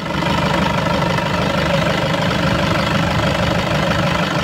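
A 2012 Toyota Innova G diesel with automatic transmission idles steadily at close range, giving a loud, even clatter that runs unbroken throughout with no talking.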